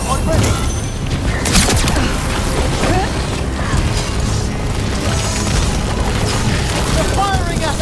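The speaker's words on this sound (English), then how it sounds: "They're firing at us!" Enemy fire booming in a Dragon Age: The Veilguard battle, loud dense rumbling blasts and crashes layered over mechanical clatter, with voices shouting beneath the continuous din.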